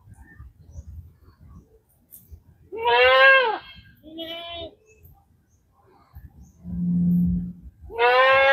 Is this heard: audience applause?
no